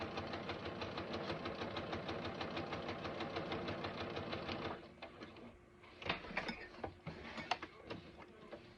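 A sewing machine stitches a backpack piece in a fast, steady mechanical rattle for several seconds close up, then stops, leaving scattered handling clicks and knocks.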